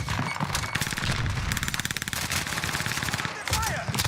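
Rapid automatic gunfire in the Warzone video game, dense bursts of machine-gun shots firing continuously at a moderate, slightly distant level with faint background game noise.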